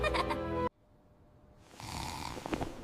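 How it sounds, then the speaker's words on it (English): A man pretending to sleep gives a snoring sound effect: a loud, rattling snore that cuts off abruptly, then a softer, airy breath that swells again, close and alone. "And then he began to snore, pretending to be fast asleep."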